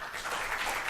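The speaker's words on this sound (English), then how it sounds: "please put your hands together and give a warm round of applause to Rajula Gupta" An audience claps for speaker Rajula Gupta at the Udaan 2014 talk event, dense even applause that fills the whole brief moment.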